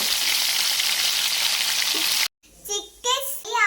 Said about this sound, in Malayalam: ഇനി നമുക്ക് കുറച്ചേരം ചിക്കൻ എടുത്ത് അത് ഫ്രൈ ചെയ്തെടുക്കാം.